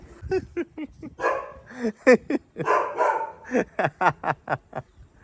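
A dog barks repeatedly in short, sharp bursts, fairly close, with a few quick yips mixed in and brief pauses between volleys.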